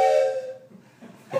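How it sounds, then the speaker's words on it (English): A train whistle from a toy train collection sounds a long steady multi-tone blast that fades off, followed by a softer pause and a short rising whistle toot at the end. "That sounds like a train whistle."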